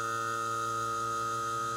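An AC vacuum pump runs steadily while evacuating a car's air conditioning system through manifold gauges, giving a constant electric hum with a strong tonal whine, close and unchanging.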